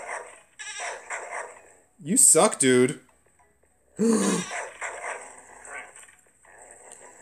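A cartoonish dog in the mobile game Goat Rampage Simulator 3D barks in two sharp, loud bursts, with someone talking before, between and after them.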